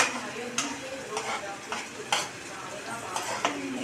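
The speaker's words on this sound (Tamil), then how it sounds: "அதுக்கப்புறமா நண்டு எடுத்து போடுங்க." A pan of crab pieces being stirred while it fries, with soft sizzling throughout and sharp metal scrapes and clinks of the spoon at irregular intervals, heard up close with no talk.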